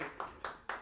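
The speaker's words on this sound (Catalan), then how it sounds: "sentiu aquests aplaudiments de fons?" Sparse hand claps sound in the background of a 1997 Catalan TV show recorded at La Parra, three sharp claps at an even pace, faint and distant.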